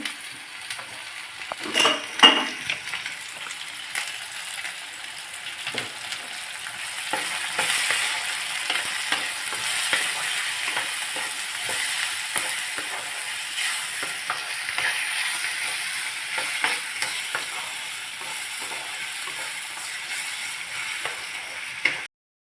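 Tomato frying in a pan with turmeric and salt: a steady close sizzle runs throughout, broken by scraping stirs and a few light clinks of a utensil against the pan.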